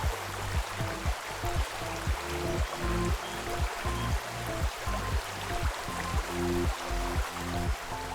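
Water runs from a motor pump pipe in a steady, moderately quiet flow, with a regular thumping pulse underneath.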